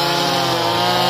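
A chainsaw cuts into the trunk of a Sao tree, opening the notch with a loud, steady, buzzing whine held at full throttle and close by, with no pauses.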